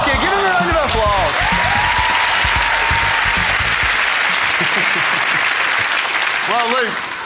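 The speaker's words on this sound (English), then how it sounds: "give him a round of applause" A studio audience applauds on a dating game show, a loud, continuous burst of clapping with voices talking over it at the start and end.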